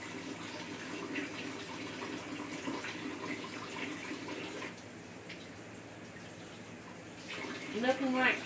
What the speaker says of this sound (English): So rinse these off, get them all clean.